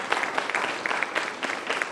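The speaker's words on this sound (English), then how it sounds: "Let us give them a big round of applause." An audience at a musical event at a cultural center applauds its volunteers, a short burst of many hands clapping together at moderate volume, fairly even with slight swells.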